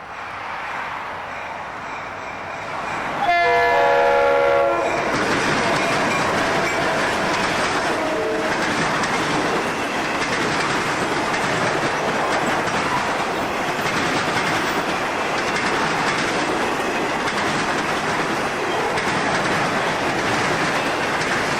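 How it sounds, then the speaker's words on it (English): An FEC freight train, number 224, rolls past the north end of Bayard Siding. It comes in abruptly with a brief horn or squeal, then a loud, steady rumble and clatter of cars passes close by for the rest of the clip. "Number 224 rolls by the north end of Bayard Siding"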